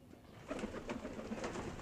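Soft, low pigeon coos repeat in a steady murmur close by, over faint background noise.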